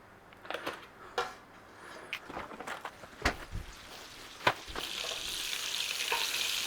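Butter going into a hot pan beside bacon, with a sizzle that builds to a steady, bright frying hiss while utensils scrape and tap at irregular moments.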